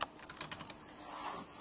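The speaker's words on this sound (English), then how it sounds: "I'll press the key to associate the keyboard" Keys clicking on a USB keyboard plugged into a DC-125 USB docking station, a short run of quick, close taps, then a softer hiss and one last click.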